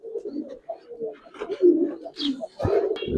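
Ring-eyed Giribaz pigeons coo close by in a series of soft, throaty, rolling calls, with a brief rustle near the end.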